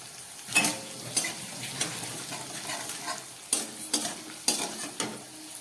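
Ground turmeric, coriander and cumin fry with potatoes in a pan of hot oil, with a continuous soft sizzle and repeated scraping clinks of a spoon stirring against the pan, moderately close.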